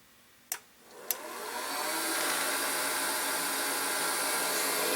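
A Prosharp skate sharpening machine on an older AS2001 setup runs a sharpening cycle: two sharp clicks, then a whirring hiss that rises and settles into a steady, continuous grind.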